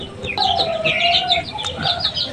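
Native hens on a new duck and chicken farm cluck and chirp in short, busy bursts, with a steadier tonal call running underneath. The birds are fairly close.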